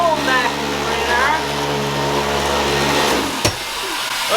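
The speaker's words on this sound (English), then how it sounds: "The old vacuum cleaner." An old household vacuum cleaner drones steadily at close range, its constant motor hum and whine running throughout, with a faint voice under it and a brief thump near the end.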